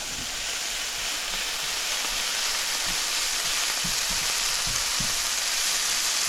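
Fresh green seasoning with thyme sizzles in a hot pan of oil, a dense, steady frying hiss that stays loud and unbroken, with faint crackles underneath.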